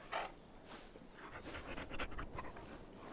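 A dog in the Dragon Age video game panting steadily in quick, soft breaths, quiet and close, with no talk over it.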